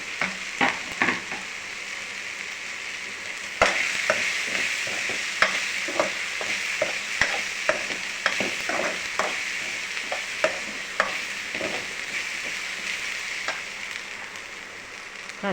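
Karisalai and pirandai (adamant creeper) are sautéed in a pan, with a continuous sizzle punctuated by frequent sharp scrapes and knocks of the spoon as the greens are stirred close by.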